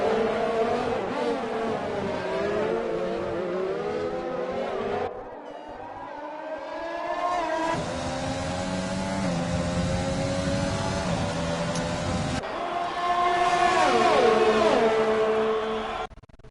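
Several racing cars in a sim racing game, locked in a close three-car battle, drone together in loud overlapping engine whines that rise and shift pitch through gear changes, with no talking.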